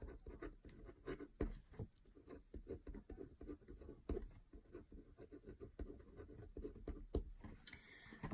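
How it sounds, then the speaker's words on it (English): Handwriting on paper while working through a GCSE biology exam question: soft, faint scratching pen strokes in irregular bursts with small taps, close up and very quiet, no speech. "I'm just going to write down a few things that I know."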